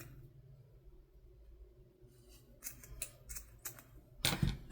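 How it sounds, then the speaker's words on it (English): Scissors cut through lace in several close, crisp snips, quick successive cuts after a quiet start, ending with a louder final snip. "So we want to cut it about right there."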